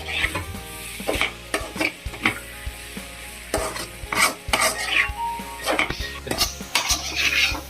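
Drumstick greens are sautéed in a pan with steady scraping, stirring strokes and occasional metal utensil clinks over a continuous sizzle. The sound is close and there is no talking.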